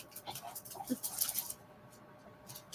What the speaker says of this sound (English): my dogs never all three play together. And at this moment, all three of them decided to play fight.